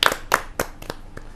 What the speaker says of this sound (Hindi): जोरदार तालियों से स्वागत कीजिए प्रशांत अवस्थी जी